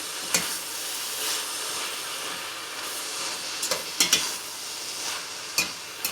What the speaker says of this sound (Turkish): Ispanaklarımız öldü. Şimdi şöyle bir karıştırıyorum.